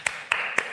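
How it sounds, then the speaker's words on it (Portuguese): Three sharp, separate hand claps close by in a quiet room during a political debate, evenly spaced about a quarter second apart, each ringing briefly. "Eu bato as palmas"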